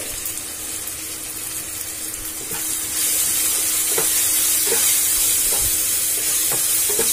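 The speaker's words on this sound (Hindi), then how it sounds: "अब इन मसालों को हम मिला लेंगे" Spices mixed with fennel powder are stirred in a frying pan for a dhaba-style aubergine and potato sabzi. A continuous close sizzle with repeated scraping stir strokes grows louder and brighter about halfway through.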